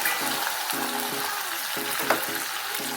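Eggplant sizzles softly in tempered oil for eggplant rice, a moderate, even frying hiss close by, with light stirring and a faint musical backing throughout.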